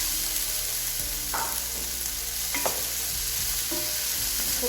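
Goan chorizo frying with softened tomatoes gives a constant close sizzle, broken by three or four distinct scraping stirs of a utensil through the pan, with no talking.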